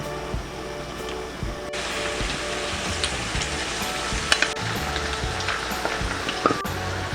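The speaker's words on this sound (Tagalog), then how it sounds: "Ngayon ay ipiprito na natin tong ating patatas." Potatoes fry in hot cooking oil with a steady, dense sizzle throughout, close and fairly loud, with a few light clinks of a utensil against the pan and no talk.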